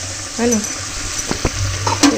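Spices roast in a hot pan with a soft, close sizzle and a few quick scraping stirs, while someone speaks briefly over it.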